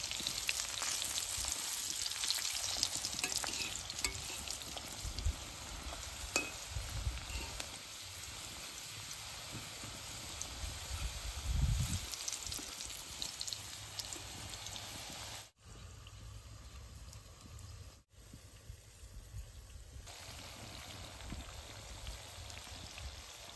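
Banana stem chips fry in hot oil until crisp, giving a steady close crackling sizzle that fades briefly near the end and then continues more quietly.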